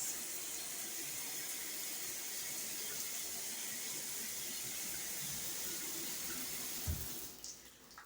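Water runs steadily from a tap in an apartment, a constant close hiss and splash for several seconds that cuts off abruptly near the end.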